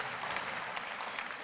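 Church congregation applauding, a steady, dense wash of clapping that holds evenly for the whole moment, moderately close and without voices on top.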